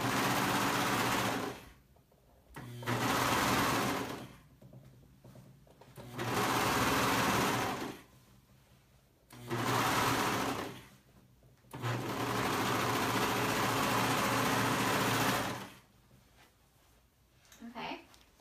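Sewing machine stitching the side seam of a pullover, in five or six sustained loud bursts of rapid, even whirring separated by short pauses, close up.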